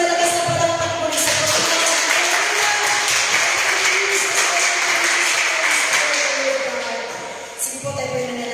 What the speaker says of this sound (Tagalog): Isang malakas na palakpak mo sa